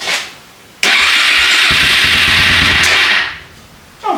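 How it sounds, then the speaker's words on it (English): A quad bike engine is cranked over loudly up close for a few seconds in a harsh, rapid churning burst. It fails to catch, then the starter cuts out and falls quiet. "Let's see if it'll fire up."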